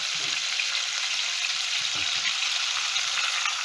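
Chicken strips fry in a pot of oil with a steady, even crackling sizzle, a few soft bumps underneath and no voices.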